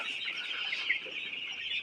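Broiler chickens in a shed keep up a dense, steady chorus of overlapping clucks and chirps, close and continuous, with no talking.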